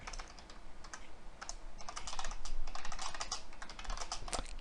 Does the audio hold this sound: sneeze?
no